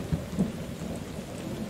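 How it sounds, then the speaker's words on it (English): Steady, dense rain with low rolling thunder rumbles, in the video game Survive The Nights. The storm holds an even, close wash of downpour with a couple of soft low booms early on, and no voices. "let's get out of this rain"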